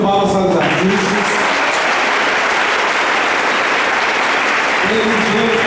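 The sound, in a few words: congregation applauding the carpet artists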